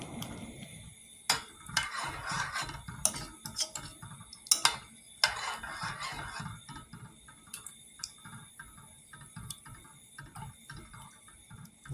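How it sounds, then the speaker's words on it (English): A spoon stirring ramen broth seasonings in a pot on the stove, with faint rhythmic scraping and light clinking strokes against the metal, some louder knocks early on, steady and close. "Give it a little stir, turn the heat on."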